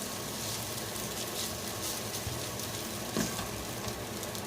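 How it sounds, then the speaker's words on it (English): Potatoes starting to cook in a pan alongside T-bone steak, giving a steady, soft, broadband sizzle that holds evenly throughout with a faint pop near the end. "we'll start some potatoes cooking right here"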